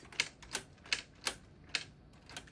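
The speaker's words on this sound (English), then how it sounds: "Show how, like, the typewriter is even functional." Manual typewriter being typed on, a few crisp separate key strikes in an uneven rhythm, close and fairly quiet, alone with no talking.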